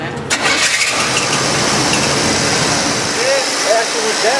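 A car engine with a freshly replaced alternator and battery cranks and starts, then runs steadily at close range, with people talking over it.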